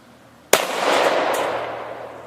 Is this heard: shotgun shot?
yes